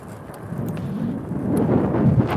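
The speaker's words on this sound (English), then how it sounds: "we have a storm rolling in" Low, continuous rumble of thunder from a storm rolling in, swelling slightly toward the end with a steady wash beneath, close and fairly loud with no voices.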